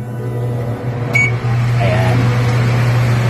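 A kitchen exhaust fan runs with a loud, steady, close hum throughout, and a person speaks a brief word over it.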